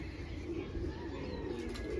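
Domestic pigeons coo softly in a low, faint murmur, with a steady hum of background noise and a few light chirps near the end.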